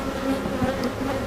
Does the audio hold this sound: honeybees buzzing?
yes